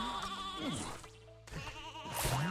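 Sheep in the Skylanders: Swap Force video game bleat in a couple of loud, wavering baa calls, close and clear over a busy game-music background.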